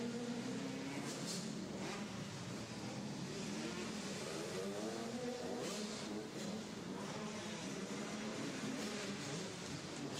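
Dirt bikes race the final lap of a women's 65 to 150 class at an indoor barn track, their engines a faint, distant, continuous buzz with occasional rising revs.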